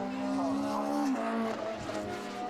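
Lotus race car spinning out on a circuit during a Lotus Cup Europe race at Snetterton, engine note sliding down in pitch with a brief tyre squeal as it loses grip, loud and close beneath continuous race commentary.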